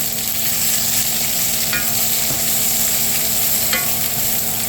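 Hamburger steaks with onions brown in a hot pan, giving a steady, loud, close sizzle that runs without a break, with a couple of faint scrapes mixed in.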